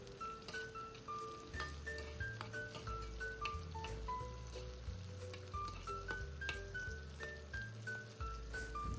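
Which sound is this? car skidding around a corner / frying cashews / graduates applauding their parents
frying cashews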